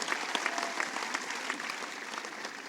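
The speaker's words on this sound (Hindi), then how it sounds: "मैं चाहता हूँ इस बार पूरा सदन कविता के सम्मान में जोरदार तालियां बजाता है।" Sustained applause from a large audience filling an assembly hall during a poetry recitation, steady dense clapping throughout without a break, fairly distant and reverberant.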